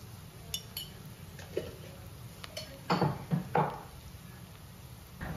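Coriander, pepper, turmeric and asafoetida masala for crab roast is sautéed in a pan. A utensil taps and scrapes against the pan in scattered, faint clinks over a low background hiss.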